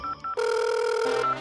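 A telephone rings indoors: two short electronic chirps, then a loud sustained ringing tone that shifts pitch partway through and cuts off abruptly, with no voices.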